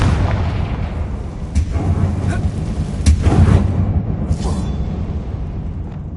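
The Confringo blasting spell in a video game sets off rumbling explosions, deep booming impacts that roll on continuously with a few sharper cracks on top.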